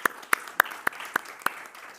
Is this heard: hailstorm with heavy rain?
no